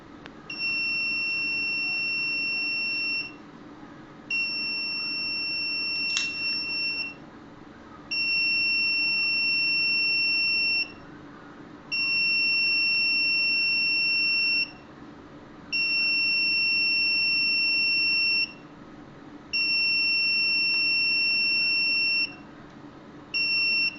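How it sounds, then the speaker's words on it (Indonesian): Buzzer alarm on a heated LM35 temperature sensor circuit, a shrill two-tone beep sounding in long repeated bursts with short gaps, steady and close over low background hum. "Pada suhu 65, buzzer akan terputus-putus dan tulisan pada LCD akan menampilkan suhu berlebih"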